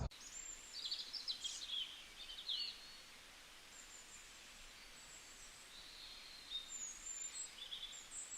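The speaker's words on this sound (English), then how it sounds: "I don't know if you hear the birds, but I certainly do hear it." Faint birdsong drifts in from a distance outdoors, scattered chirps and short trills over a soft, steady background hiss.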